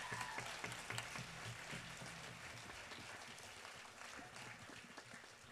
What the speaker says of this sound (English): And please also give it up for Jonathan on tenor and JP on trumpet.